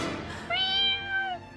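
A cat gives a single clear, drawn-out meow, close and fairly loud, rising then falling, with nothing else heard.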